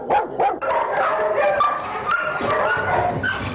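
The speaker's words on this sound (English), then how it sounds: "You ever get tired of hearing all that barking?" A group of dogs barks and yips close by in a loud, busy cluster, with a few whimpers mixed in among the rapid overlapping barks.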